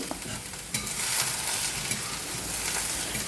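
Brinjal frying in coconut oil with turmeric powder, stirred steadily; a loud, continuous close sizzle with scraping stir strokes throughout, no talking.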